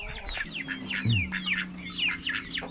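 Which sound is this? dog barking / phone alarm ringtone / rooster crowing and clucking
rooster crowing and clucking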